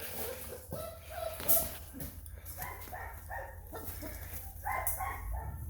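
Jagdterrier puppies yip and bark in short, excited bursts while playing with a bird, mixed with a person's encouraging talk close by.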